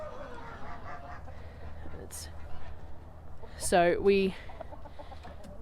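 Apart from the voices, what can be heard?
chickens clucking, roosters and hens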